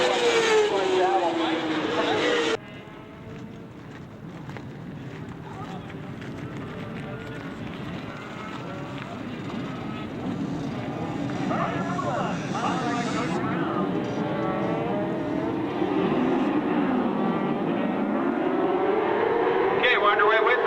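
Honda and Yamaha road-racing motorcycles at a WSMC race, howling past at speed with engine pitch rising and falling, under continuous commentary.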